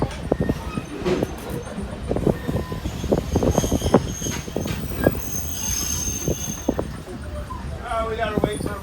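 Two trains pass each other nearby at a railway museum, with loud, screeching wheel squeals and irregular metallic clatter over the rails.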